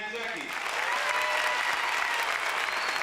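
A large crowd at a public debate bursts into sustained, loud applause for Arab cinema star Ahmad Zaki, steady dense clapping with a brief voice at the very start.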